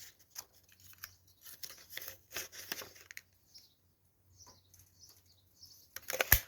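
Scissors snipping through a paper craft page to trim off its bottom edge, a run of quiet, crisp cuts in short bursts with a pause midway and a louder snip at the end.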